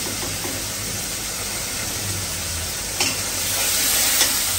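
Green chillies frying in a pan with a steady sizzle and hiss, broken by a few scraping stirs near the end.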